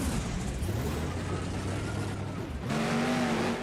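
Monster truck Just Get Her Done 2 roaring at full throttle during a Monster Jam show in Toledo, Ohio, a loud sustained engine drone that dips briefly then surges again at a higher pitch.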